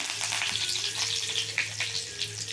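Curry leaves frying in hot oil in a pan, a bright crackling sizzle with spitting pops over a low steady hum, close up and without voices.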